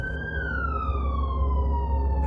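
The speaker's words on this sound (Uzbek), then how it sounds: "tashqarida sirenalar ovozi eshitildi." A loud wailing police siren sweeps slowly downward in pitch, close by and continuous, over a low rumble of traffic.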